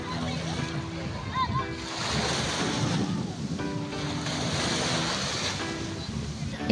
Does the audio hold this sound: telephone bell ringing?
no